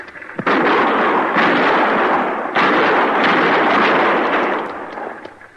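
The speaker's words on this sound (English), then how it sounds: "Use your rifle, Chester." Rifle shots in an old western radio drama sound as loud booming reports, the second about two seconds after the first, each trailing into a long, rumbling, echoing roar that fades at the end.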